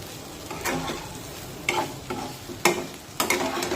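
Roasted peanut powder and chopped coriander are stirred into a dry bean stir-fry with a spatula, giving three or four distinct scraping strokes over a low, steady sizzle close by.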